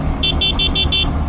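A Yamaha XSR 155 motorcycle horn sounds close and loud in five quick beeps in a row over a steady engine and road rumble.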